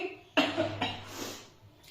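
A pair of quick, moderately loud coughs close by, trailing off into a soft breathy exhale.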